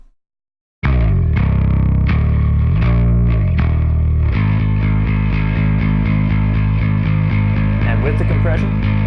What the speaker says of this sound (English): Here's the sound of just the bass with no compression on it.